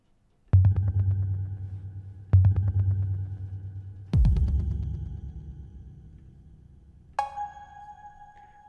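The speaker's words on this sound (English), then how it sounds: "Another good preset to try here is this creep reverb." Deep, booming percussive hits drenched in the creep reverb preset of an Eventide Temperance Lite plugin swell into long, dark, ringing tails, three heavy strikes followed by a higher metallic tone, with an eerie horror-like feel and no talking.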